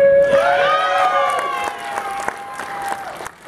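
Audience clapping and cheering at the SOE Live 2014 Landmark keynote address, a dense crowd wash with scattered sharp claps that slowly tapers, overlaid by a shouted voice.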